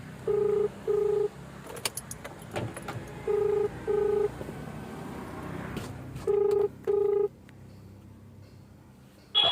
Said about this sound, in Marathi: तर कस्टमरला फोन करतो